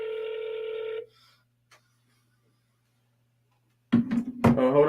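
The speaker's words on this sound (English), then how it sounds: "We're making a phone call real quick." Telephone tone while placing a phone call, a steady electronic beep lasting about a second, then near silence, followed by a burst of a voice speaking on the line.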